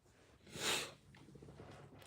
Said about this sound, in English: But I be having powerful sneezes.